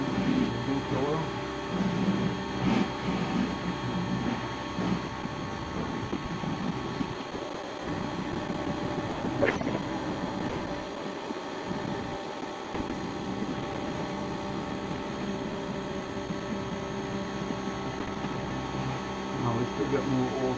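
A power washer sprays driveway cleaner onto oily concrete with a continuous loud roar of engine and spray. People talk over it throughout.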